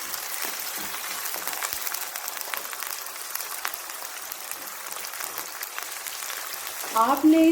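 Chicken fries on high heat in a pan with browned ginger and garlic, a dense, even sizzle and crackle throughout, with a brief stir or clatter near the end; no talk.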